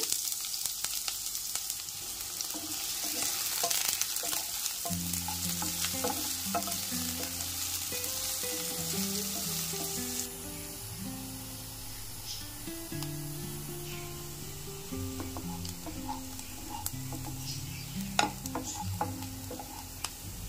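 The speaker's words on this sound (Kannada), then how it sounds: "ಎಣ್ಣೆ ಕಾದಿದೆ, ಹಾಗಾಗಿ ಸಣ್ಣದಾಗಿ ಹಚ್ಚಿಟ್ಕೊಂಡಿರೋಂಥ ಈರುಳ್ಳಿ ಸೇರಿಸ್ಕೊಂಡಿದ್ದೀನಿ." Finely chopped onion frying in hot oil for crab sambar, a continuous bright sizzle with occasional stirring scrapes and background music underneath.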